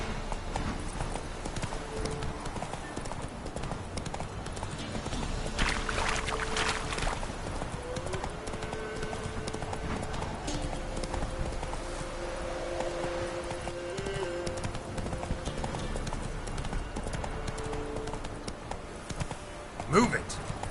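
Horse hooves clip-clopping steadily throughout a Witcher 3: Wild Hunt game scene, the horse urged on at pace, with occasional whinnies and voices talking over the continuous hoofbeats.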